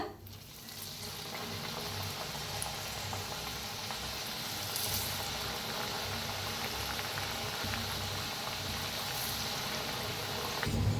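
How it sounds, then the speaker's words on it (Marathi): Chakli, a crunchy spiral snack, deep frying in a pan of oil. A soft, steady bubbling sizzle continues evenly and at low level, with no one speaking. "आम्ही सगळ्या चकल्या तळून घेऊया अशाच."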